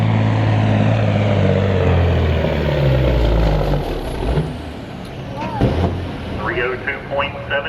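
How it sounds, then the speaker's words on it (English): A 1990 Peterbilt 379 semi truck at a truck pull, engine roaring loud and close, then easing off as an announcer's amplified voice and crowd noise come in over it. "Patrick by Nottingham, Pennsylvania, 90 Peterbilt, 379."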